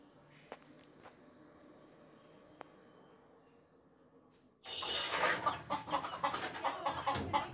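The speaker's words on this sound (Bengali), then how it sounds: "সব মুরগি তো ঠিকই আছে" Chickens in a backyard cluck and scratch about nearby once a quiet stretch with a few faint taps gives way to a busy, close burst of clucking and rustling activity.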